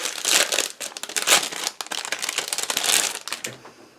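A roll of quarter-inch-wide score tape is handled up close for card-making, giving bursts of crinkly, papery rustling and crackling that rise and fall for a few seconds before fading out.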